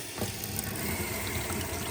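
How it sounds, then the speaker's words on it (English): A water pump runs inside a Jayco 22 FB camper trailer, giving a continuous close whirring hum with the sound of water moving through it, and no voices. "Okay, so the water pump's turned on."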